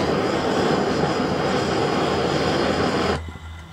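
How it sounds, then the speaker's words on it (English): A high-temperature torch flame is aimed at a spinning fidget spinner, giving a loud, steady, close roar that cuts off abruptly near the end, leaving quieter background. "Time for the torch."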